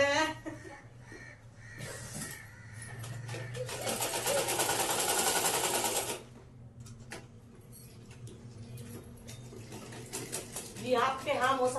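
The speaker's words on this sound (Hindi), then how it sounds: "अभी धड़ाधड़ से कपड़े सिलाई हो रहे हैं।" A sewing machine stitches clothes in a village home with a fast, steady whirring run of about two seconds. Faint crow calls, dish clatter and distant voices sound around it.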